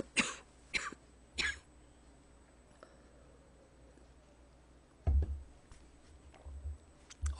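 Close, dry coughing with some throat clearing from a person indoors, a quick cluster of three coughs at the start and another burst of coughs later, with quiet pauses between.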